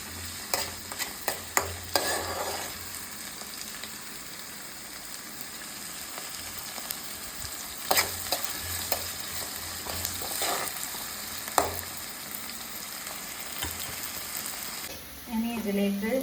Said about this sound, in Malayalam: ഇട്ട് നന്നായിട്ട് വഴറ്റി എടുക്കുക